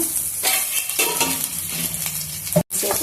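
Chopped onions with mustard seeds and cumin fry in a pan for a Rayalaseema snake gourd stir-fry, a loud continuous close sizzle with a few stirring scrapes and clinks against the pan.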